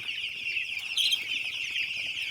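Chicks about five or six days old on a poultry farm keep up a dense, steady chorus of high-pitched peeping and chirping. The sound is close and continuous, with no talking.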